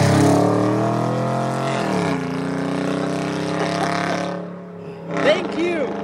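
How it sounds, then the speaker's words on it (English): A car speeds past on a dark country backroad in Oklahoma, its engine note loud and sweeping down as it passes, then fading away while voices speak nearby. "one of those crazy cars that are zooming around here at night"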